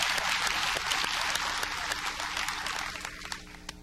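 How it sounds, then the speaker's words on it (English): An audience gives a presenter another round of applause during a real estate talk, with brisk, full clapping from a room of people that stays strong and then thins slightly in the final second. "Let's give him another round of applause."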